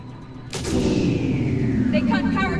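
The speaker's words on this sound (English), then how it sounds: "Then I think it's time to test this cannon." A heavy cannon fires in the Mass Effect 3 video game, one sudden loud blast followed by a long rumbling roar that sustains and trails off, with faint crackling at the end.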